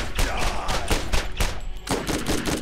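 Automatic gunfire in the video game Borderlands rattles in quick repeated bursts, loud and close, with a short break near the two-second mark before the firing resumes.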